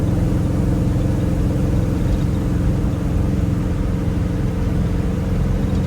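A 1957 Chevy Bel Air two-door Sport Coupe restomod engine running loud and steady up close, a continuous heavy rumble with no break and no talk.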